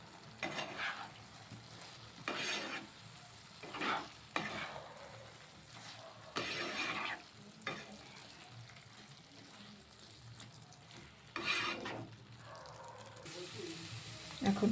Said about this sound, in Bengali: ঢাকা খুলে এবার একটু নেড়ে দেব